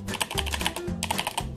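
Keystrokes on a self-built computer keyboard, a steady run of crisp, close clicks and clacks with slightly uneven rhythm and a short pause near the middle, heard alone.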